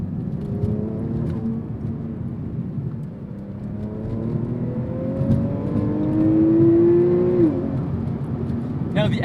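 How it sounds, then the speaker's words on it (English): A naturally aspirated Porsche flat-six in a 911 revs up and climbs in pitch to a sharp peak before cutting off, heard from inside the car over a steady drone with a voice speaking over it. "You can't beat the sound of a naturally aspirated Porsche flat 6"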